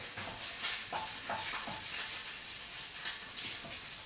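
Steady sizzling hiss of bacon frying in a pan, with a few soft stirring scrapes, fairly quiet and continuous.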